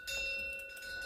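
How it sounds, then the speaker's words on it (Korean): Several clear metallic tones from a temple wind bell ring out softly and hang in the air, a gentle chime sustaining quietly against a hushed background. "소리가 풍경 소리 너무 좋다."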